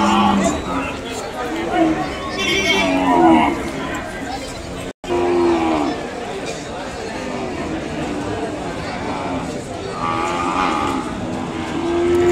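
Cattle mooing repeatedly, low drawn-out calls rising over a busy outdoor background with people chattering nearby, one brief dropout midway.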